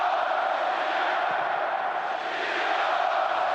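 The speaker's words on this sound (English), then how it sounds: "the crowd now right behind the home side, giving them a massive lift" A football stadium crowd roars continuously behind home side Russia during a match against Slovenia, a dense, steady wall of cheering and chanting at a distance.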